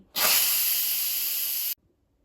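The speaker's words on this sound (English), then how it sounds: "so let's quick release the steam" Instant Pot pressure cooker venting steam on quick release, a loud, steady, close hiss that starts abruptly, holds for about a second and a half, then cuts off cleanly, alone.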